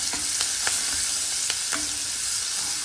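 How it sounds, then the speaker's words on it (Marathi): Sliced onions sautéing in a pan, a close continuous sizzle broken by several light taps and scrapes of a spoon stirring, no talking. "हे उभे चिरलेले कांदे उभट चिरलेले आहेत आणि हे सगळे आता आपण छान परतून घेऊ"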